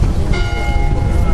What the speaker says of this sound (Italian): Bellissimo anche questo rintocco delle campane proprio in questo momento.